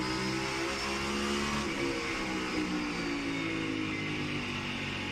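NASCAR Cup Series stock car driven by Reddick at North Wilkesboro, a steady loud engine drone held throughout at high revs, with a slight pitch shift midway as the car passes.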